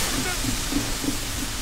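Steam hissing in the video game The Division 2, a constant broad hiss with faint rhythmic pulses beneath it and a voice talking over it.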